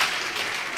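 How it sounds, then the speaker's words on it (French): Applause from a church congregation during a French-language worship service, a steady dense patter of many hands filling a short moment at moderate loudness. "Applaudissez pour elle."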